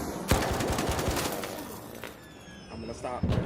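A gun firing in the action game Final Fantasy VII Remake, with rapid crackling bursts of shots and sharp impacts mixed with game effects, and a voice talking over part of it.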